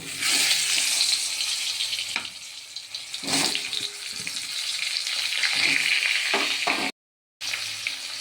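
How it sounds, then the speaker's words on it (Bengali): Potatoes frying in a kadai of oil left over from frying rohu fish, a steady broadband sizzle close by with a brief gap near the end, no talking. "মাছ ভাজার তেলেই আমি আলুগুলো ভেজে নেব"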